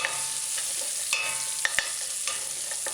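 A Scotch bonnet pepper drops into a hot pan of sautéing onions, and a steady, close sizzle of frying continues throughout, broken by a few soft clicks of stirring.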